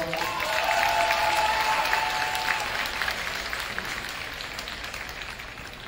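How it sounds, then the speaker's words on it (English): A high school graduating class night audience claps steadily in a large hall, applause strongest at first and gradually thinning out toward the end. "A round of applause."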